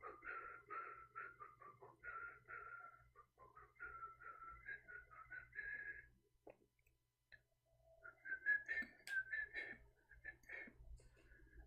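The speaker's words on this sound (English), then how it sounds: "I'm whistling." A man whistles faintly in a quiet room, giving a few brief wavering tonal phrases, with soft breathy noises and pauses between them.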